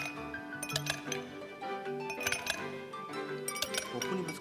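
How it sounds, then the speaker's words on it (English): Ice cubes clink against the sides of a cup during a Nintendo Switch presentation in 2017, making a busy run of bright glassy clinks and taps over a murmur of voices. "The Joy-Con can convey to you the feeling of ice cubes colliding in a cup"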